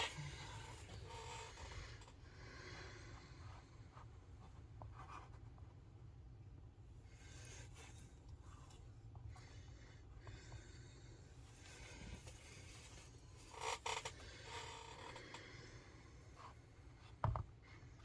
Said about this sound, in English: now what I'm going to do is just come in and scrape a little bit of what I need off